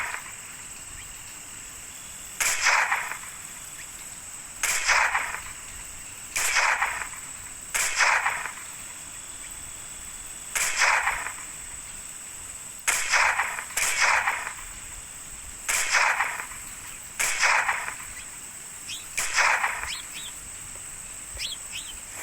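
Gunshots from a mobile sniper video game as targets fire at cans: about nine sharp, evenly spaced shots over a steady electronic background hum.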